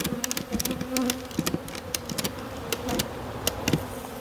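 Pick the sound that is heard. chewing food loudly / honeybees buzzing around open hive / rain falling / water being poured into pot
honeybees buzzing around open hive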